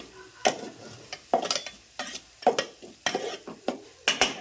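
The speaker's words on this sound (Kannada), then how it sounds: "ಖಾರ ಉಪ್ಪು ಅರ್ಶಿನ ಇಷ್ಟು ಒಂದು ಸ್ವಲ್ಪ ತಿರುವಿ ಉಳ್ಳಾಗಡ್ಡಿ ಫ್ರೈ ಮಾಡ್ಕೊಳ್ಳಿ" Onions with chilli powder, salt and turmeric stirred in a frying pan, a series of sharp scraping strokes of a spoon against the pan in an uneven rhythm over a faint sizzle, close and clear with no talking.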